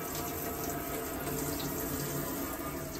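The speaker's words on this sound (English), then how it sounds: "as we open the tap, you get a pressurised flow of water" Water gushes from an opened tap in an Elddis Envoy 130 caravan, pushed by the onboard pump as a steady, loud pressurised flow with continuous hiss, running alone without talk.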